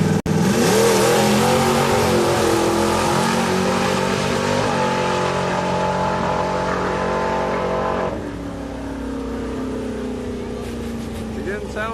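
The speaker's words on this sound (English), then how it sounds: "Nice Corvette coming up behind this Mustang." A Corvette engine revs hard and accelerates on a test track, a loud, close roar climbing in pitch, then dropping to a lower drone after about eight seconds as the car passes on, with a voice talking over it.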